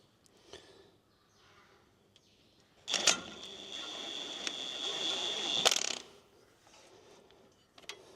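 A ratchet wrench tightens a nut down onto a washer on farm silage equipment, a loud close run of rapid clicking lasting about three seconds, framed by a few softer isolated knocks and clicks before and after.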